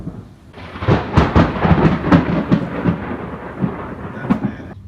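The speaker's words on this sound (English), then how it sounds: "can hear that. That's some thunder." Loud thunder crackles and rolls through a storm, with sharp repeated cracks over a sustained rumbling roar lasting several seconds and no voices.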